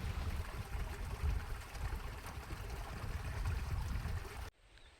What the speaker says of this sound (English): Mini river. It's so clean, yeah. The water is so fresh and clean.